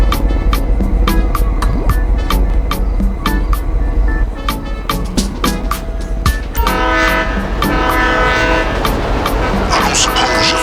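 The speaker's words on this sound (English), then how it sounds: "You need to keep that train moving at all costs." A train rolls along in GTA Online with steady clickety-clack of wheels over rail joints, regular clanks and a horn-like tone near the end, loud and continuous.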